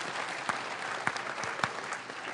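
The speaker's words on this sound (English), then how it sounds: "So a round of applause for that." Steady applause from a crowd, dense clapping throughout with a few sharper claps standing out, continuous for the whole stretch.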